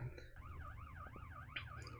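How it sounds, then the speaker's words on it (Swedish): A faint emergency siren wails in a fast, steady up-and-down yelp over a low rumble. "Och han har ju korsningssirener på också, så det är bra som man hörs."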